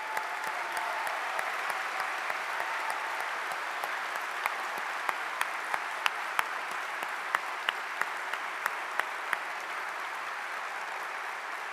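An audience at an honors convocation applauds the students with steady, sustained clapping, moderately loud and even throughout, with a few sharper individual claps standing out.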